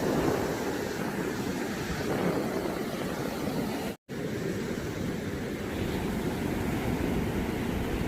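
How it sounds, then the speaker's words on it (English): Steady broadband rush of ocean surf on Matosinhos Beach near Porto, continuous and fairly soft, with wind noise and a brief dropout partway through. "The waves in this beach were not that huge."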